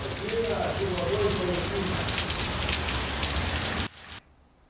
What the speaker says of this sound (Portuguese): Chuva boa em Palotina, Paraná.